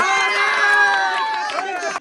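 A lively crowd cheers and shouts together at an apple-eating contest, voices overlapping in a loud, sustained burst of excitement close by.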